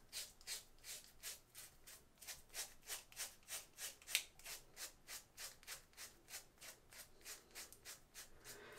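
Razor shaving up the cheek during wet shaving, a close, rhythmic series of soft scraping strokes, about two per second, steady and quiet with no talk.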